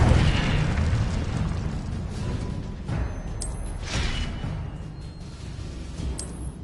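Incendio fire spell cast in the Hogwarts Legacy video game, a roaring burst of flame with several whooshing flares over a continuous rumbling fiery background, loud and close.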